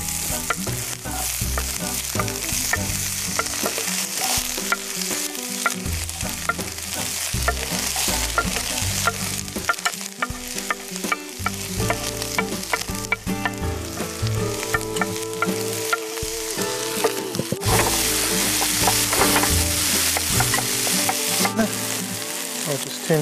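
Onions sauteing over good heat in a pan, a continuous busy sizzle and crackle with stirring scrapes throughout, close and fairly loud with no talk.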